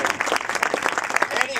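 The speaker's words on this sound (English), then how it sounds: "Give her a round of applause." A crowd at an Ohio political event gives a round of applause, with steady, dense clapping filling the whole brief stretch at close range.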